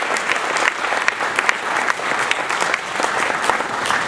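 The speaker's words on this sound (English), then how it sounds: "please give him a huge round of applause" Audience applause for a new father at an America's Cup event in Portsmouth, a full, lively burst of clapping that stays loud throughout with no speech over it.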